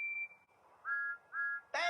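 Steam engine whistle from a Thomas & Friends remake, the engine being Percy: a thin high whistle tone, then two short rising toots, ending in a sudden harsher burst.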